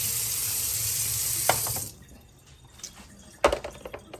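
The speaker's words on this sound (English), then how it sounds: "I could rinse it out, right?" Tap water runs steadily over a Jura ENA 4 water filter for about two seconds, then cuts off, followed by a few close plastic knocks and drips.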